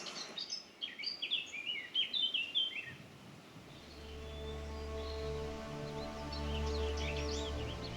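Small birds chirp and trill in scattered bursts along a rural Corsican trail, close and clear at first, then a steady low drone rises underneath while faint calls continue.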